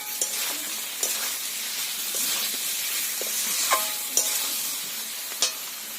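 A spoon stirs a gourd and fish curry in a hot pan, producing steady close sizzling and frying with scattered scraping clicks as it moves through the food, no voices.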